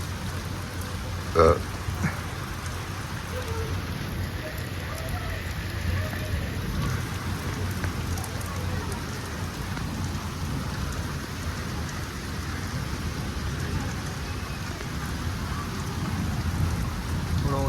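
A steady rain beats down on a cotton and castor farm field, a broad, even hiss of drops with a brief sharp knock early on and a low rumble underneath.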